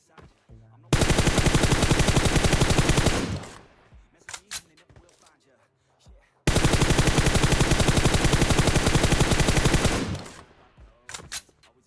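M4 rifle fire in a video game comes as two long, loud bursts of rapid automatic shots, each lasting several seconds, with scattered short clicks and shots in the gaps.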